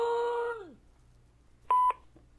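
Two short electronic dialing tones sound after a falling synthesized tone. The pair of beeps is crisp and close, with quiet around them.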